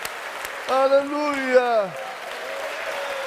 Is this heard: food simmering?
no